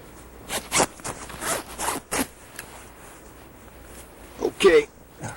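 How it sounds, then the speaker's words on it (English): A sleeping bag zipper rasps in a few short pulls, close by, after scattered rustling and quiet voices. "Could you give me a hand? My zipper's stuck."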